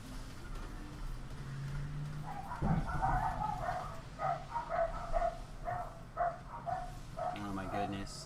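A dog barks in the background, a burst of repeated yaps and barks behind an ongoing talking voice, fairly faint and somewhat distant.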